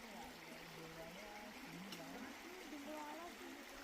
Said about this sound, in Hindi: कितनी पतली धार है और पानी लगातार बह रहा है